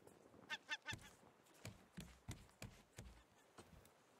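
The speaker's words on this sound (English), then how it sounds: "I hear a bird." In the Raft survival game, a bird perched on the player's boat gives a few quick faint calls near the start, followed by soft scattered clicks and knocks.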